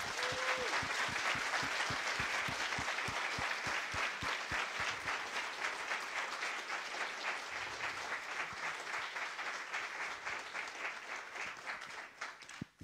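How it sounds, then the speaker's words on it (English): Loud, sustained applause from a conference audience welcoming a lecturer at a libertarian conference, dense and steady throughout before tapering slightly at the end. "please give a loud round of applause for Дейвид Фридман"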